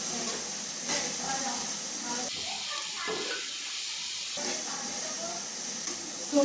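Green chillies frying in hot oil for a boneless fish curry, a steady close hiss and sizzle that continues throughout and dips briefly partway through, with a voice speaking over it.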